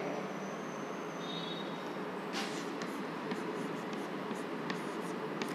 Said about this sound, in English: I directly write the equation.